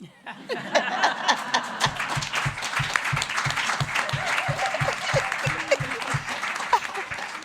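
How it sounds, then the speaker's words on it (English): An audience at a women's rights forum breaks into applause with rhythmic unison clapping on a steady beat, mixed with chatter, laughter and cheering voices throughout. "Clap for me."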